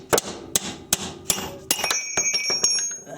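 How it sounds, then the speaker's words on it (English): Sharp metal strikes as a hammer drives a chisel against a stuck car axle, several loud hits spaced roughly half a second apart, then a quicker flurry of ringing clanks. "Use the chisel. Makes all the difference."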